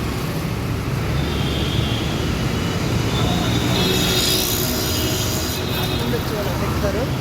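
Steady, loud broadband rumble and hiss of a metro train passing through a station, continuous throughout with a faint murmur of crowd noise beneath.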